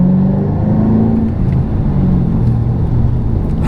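A Ford Shelby GT500 engine lightly revved with just a touch of gas, a loud, deep, steady rumble close by that swells slightly and settles, with no voices over it.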